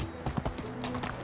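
Horse hooves clip-clop in a quick, steady rhythm while riding in Medieval Dynasty, close and distinct over a background wash of ambient noise.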